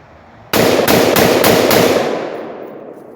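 A 10.5-inch Palmetto AR-15 pistol fires WM193 ammunition fast: five sharp, loud reports in quick, even succession, then a long echoing decay outdoors.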